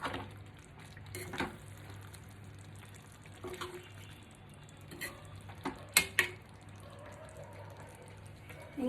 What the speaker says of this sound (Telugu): ఒకసారి కలుపుకుందామండి. ఇలా మెల్లిగా కలుపుకోవాలి.